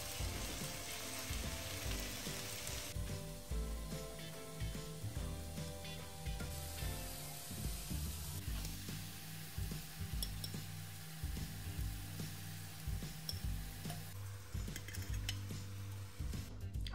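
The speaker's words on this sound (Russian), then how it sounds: "А в этой сковороде я обжарю грибы," Sliced mushrooms sizzle steadily in a hot frying pan, with occasional scraping and stirring clatter from a utensil, no voices.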